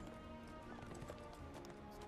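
A horse gallops in the video game Neverwinter: rapid continuous clip-clop hoofbeats with a whinny-like tone, steady and fairly full, under a dense game soundscape.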